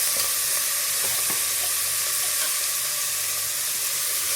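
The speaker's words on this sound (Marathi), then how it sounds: "आपल्याला आता तांदूळ पण छान परतून घ्यायचे आहेत" Rice and dry fruits sizzle steadily in a pan for sweet coconut rice, a dense continuous frying hiss with occasional soft scrapes of stirring, close and loud with no talking.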